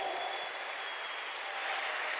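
A church congregation claps together during a Sunday service, a dense, steady wash of applause that fills the room with no break.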